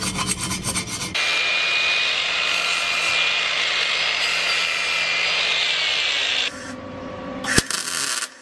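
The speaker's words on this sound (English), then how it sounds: "weld it on slowly." Welding on a thin stainless steel exhaust pipe: a steady close hiss and crackle runs for about five seconds, then drops to a quieter background with a brief sharp bang near the end.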